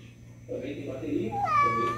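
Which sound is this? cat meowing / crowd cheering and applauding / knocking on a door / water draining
cat meowing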